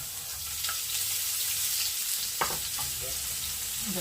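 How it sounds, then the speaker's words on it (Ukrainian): Onion sizzles steadily in a hot frying pan, a constant crackling hiss with a few soft scraping clicks as it is stirred. "сковорідка розігріла, скидаємо цибульку."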